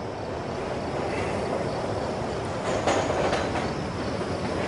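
A train approaches on rails, giving a steady rolling rumble with faint wheel clatter and a brief squeal midway, continuous and fairly close, with no talking.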